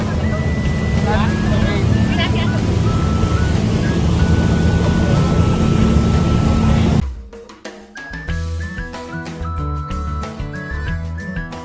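Loud boat engine drone with water wash during a ride out to Tarutao island, steady for about seven seconds before cutting to quieter, busier sounds with people talking.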